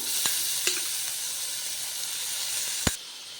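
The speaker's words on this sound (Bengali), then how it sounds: "পেস্টটা আমি দিয়ে দিয়েছি এবার নাড়তে হবে একদম মিক্সড করে নিতে হবে" Spice paste with chili powder and bottle gourd leaves sizzles in a pan over low gas flame, a steady soft frying hiss broken by a few sharp clicks and scrapes of stirring.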